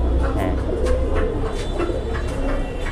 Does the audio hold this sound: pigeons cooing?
yes